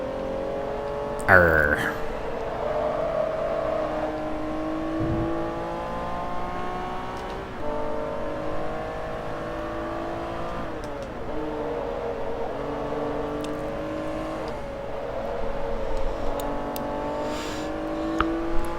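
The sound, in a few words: Honda NSX-R race car engine revving in video game Forza Motorsport 3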